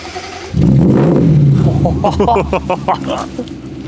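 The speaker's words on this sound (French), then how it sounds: "petite sonorité du Un V8 superchargeur. de chez Range Rover" Supercharged V8 engine of a 2005 Range Rover, tuned Stage 1, starting up with a loud, near idle rumble, then blipped into rising revs, with a voice talking over it.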